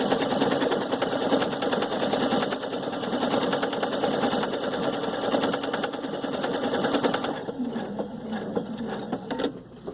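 A Viking Sapphire 930 sewing machine runs steadily, stitching a decorative box pattern with a dense, continuous mechanical whir close up, then slows and stops near the end.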